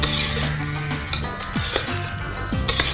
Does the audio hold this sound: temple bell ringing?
no